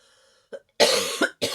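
Two or three harsh, close coughs break a short quiet pause, the first small and the rest loud and forceful, with a brief gap between the last bursts.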